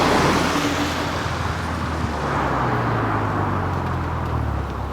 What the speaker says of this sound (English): I think I can hear Larry arriving in the distance.